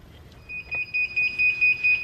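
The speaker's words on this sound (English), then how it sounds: "timer just went off" A heat press timer alarm, set for 60 seconds at 400 degrees while sublimating a custom photo sequin pillow, sounds as a string of about seven bright, evenly spaced electronic beeps that start softly and grow steady over a quiet room.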